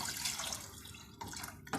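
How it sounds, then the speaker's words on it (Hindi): Water poured steadily into a pressure cooker over soaked chana dal being prepared as a haleem-style dish, a continuous close splashing rush with a brief break before the flow resumes. "दाल डालने के बाद अब मैं इसमें इतना पानी डालूँगी कि दाल से ऊपर आ जाए।"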